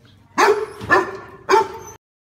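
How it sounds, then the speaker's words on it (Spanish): Three sharp barks from a small dog in a Roblox video game, evenly spaced about half a second apart, loud and close with no talk over them. "Un perro lindo con un nombre muy lindo."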